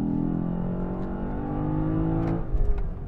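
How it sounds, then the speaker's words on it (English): A Lexus LC500 V8 on a mountain road holds a loud, rising rev with a low rumble, then lets off into a quick burst of sharp exhaust crackles and pops. "it also fires and it also crackles from the exhaust"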